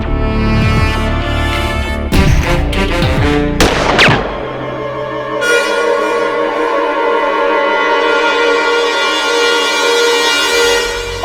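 Gunshots from a pistol fired during a reenactment in the Adalat TV courtroom drama: a handful of loud, sharp bangs spaced over a couple of seconds, followed by a long tonal music bed and no speech.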